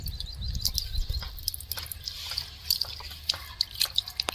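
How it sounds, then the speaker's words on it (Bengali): Fruit is washed in water, with irregular splashes, drips and sloshing close by. Faint insect chirps carry on in the background throughout. "তো একটু ভালো করে ধুয়ে দিই।"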